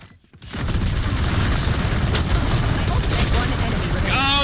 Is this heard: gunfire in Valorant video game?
yes